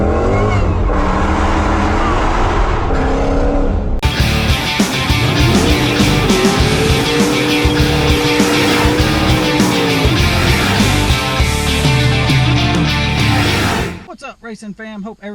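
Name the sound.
boosted Dodge Challenger R/T accelerating with no-lift shift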